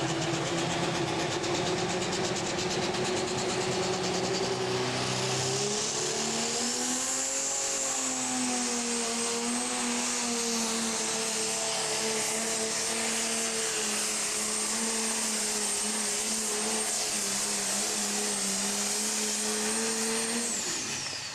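A Pro Stock pulling tractor, the Supline Express, roars through a full pull at an NTPA event in Henry, Illinois, its loud, steady engine drone rising in pitch and holding for about twenty seconds, with a distinct sound from the usual V8 Pro Stocks.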